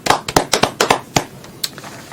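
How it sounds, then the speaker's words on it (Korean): A small group claps briefly, with a handful of sharp, uneven hand claps in quick succession that taper off after about two seconds. "박수 한번 쳐주시죠."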